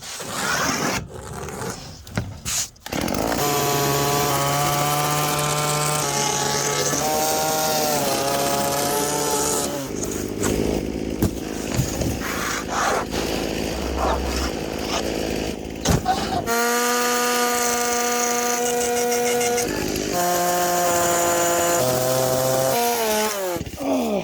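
A chainsaw roars through wood in long revving bursts, pitch rising and dropping as it bites, with brief pauses between cuts.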